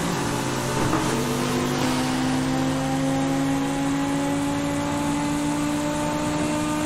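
A 600-horsepower car in the racing game Forza Horizon 5 holds a steady, loud engine drone, the pitch rising slowly as it accelerates, with no talk over it.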